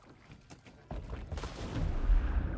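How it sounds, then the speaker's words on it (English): In the video game Kona 2: Brume, a burst of gunfire-like blasts erupts after a quiet start, followed by a rumbling, sustained roar of shots and booms. "His hopes were immediately drowned out by the sounds of gunshots."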